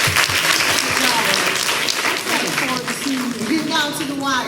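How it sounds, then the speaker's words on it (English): An audience at a business conference breaks into sustained applause, a dense wash of clapping with a few voices mixed in. "Let's give Eric a round of applause"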